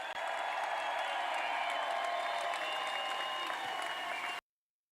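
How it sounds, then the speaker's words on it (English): A large crowd at a Tennessee baseball championship celebration applauds and cheers in a dense, steady roar that holds at the same level for a few seconds before cutting off abruptly. "Another round of applause for Xander and Kirby, Simo, Hunter Ensley, and your Tennessee Volunteers."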